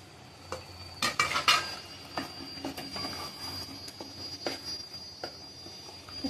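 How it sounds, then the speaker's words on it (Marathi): Potatoes tipped into a pan of cooked, partly mashed spinach for aloo palak bhaji, followed by scattered clinks and scrapes of a spoon against the pan and a faint sizzle, close and without talking. "आणि त्यात आपण टाकूया बटाटे."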